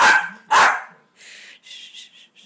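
A dog gives two loud, close barks in quick succession, then a run of quieter, higher yips and whines trailing off.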